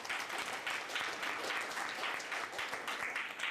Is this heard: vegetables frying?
no